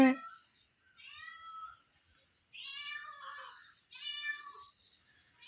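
Several short, tonal meowing calls come one after another at a moderate level against a quiet outdoor background, with brief pauses between them.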